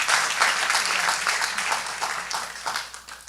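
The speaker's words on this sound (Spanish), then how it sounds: "applause to the Lord." A church congregation applauds the Lord with sustained, dense clapping that fills the room, slowly tapering toward the end with no voices on top.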